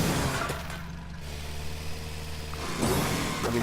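A tractor engine in the farming video game Farm Together rumbles steadily as a low, continuous drone with a slight rise near the end, with no talking.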